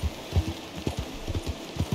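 Hoofbeats from a horse in Red Dead Redemption 2 thud in an uneven rapid rhythm, close and moderately loud, with no one talking.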